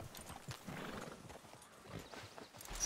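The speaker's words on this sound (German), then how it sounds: "Guck mal, da ist noch unser Wildpferd." A wild horse in Red Dead Redemption 2 clip-clops with soft, irregular hoof thuds over a quiet outdoor ambience, faint and unaccompanied by speech.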